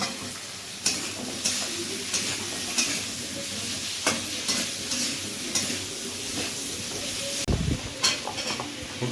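Potatoes and browned onions fry in oil in a pan, with a steady close sizzle under repeated spatula scrapes and knocks at a regular pace.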